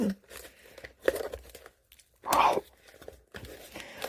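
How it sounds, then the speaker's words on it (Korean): Toy packaging for a Transformers figure is torn open by hand, with intermittent crinkling and a loud ripping burst midway between quieter rustles and pauses. "아우, 진짜 왜 이렇게 안 뜯어져"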